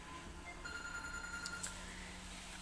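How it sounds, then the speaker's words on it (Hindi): A phone rings faintly in a home with a steady electronic tone and thin high harmonics, distant and low in level over room noise. "फोन आ रहा है"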